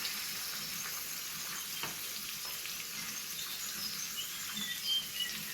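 A green onion stir fry sizzles in a pan with a soft, even crackling hiss that stays steady, quiet and close, with occasional faint stirring ticks and no talking.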